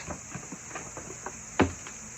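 Faint rustling and soft scratchy patter of 1,000 crickets moving about in a box, with one brief louder knock partway through; no voices.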